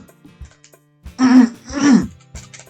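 Two hoarse throat-clearing coughs in a row, close and fairly loud, with quiet rustling before and after.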